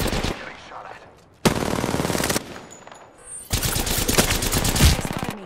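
Rapid bursts of automatic gunfire in a video game shooting at the player, loud and close, coming in two sustained volleys separated by a quieter gap.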